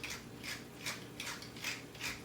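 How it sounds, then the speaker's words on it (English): Black pepper being freshly ground into a cream and rosemary pasta sauce: five evenly spaced rasping grinder twists, close and moderately soft. "going to grind in a little black pepper"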